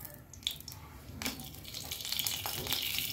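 Mustard oil pours into a wok for dhaniya chicken, a soft close trickling stream that builds into a steadier, slightly hissing flow over about three seconds.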